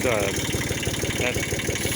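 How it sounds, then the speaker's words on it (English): Road roller engine idling after a pressure wash, a steady close mechanical rumble with even rapid pulsing that stays level throughout, nothing else over it. "the motor's running really quiet"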